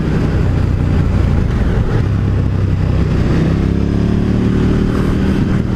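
A 2018 KTM 1290 Super Duke motorcycle rides along with a loud, steady engine drone and wind rush, its pitch climbing toward the end as the engine revs up.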